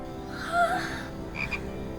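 A frog gives two short croaks, a louder one followed a moment later by a fainter, higher one, heard close and on their own.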